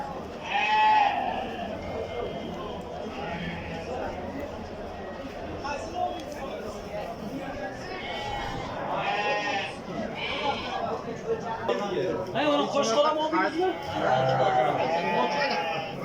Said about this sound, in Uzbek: Termiz shahrining qo'ylari ekan obunachilar